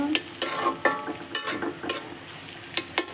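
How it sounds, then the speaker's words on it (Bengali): Koi fish frying with egg in a pan while being stirred, with repeated scraping strokes over a soft sizzle, close and fairly loud, no talking. "ডাকনা খুলে কিছুক্ষণ পরপর নেড়ে দেব"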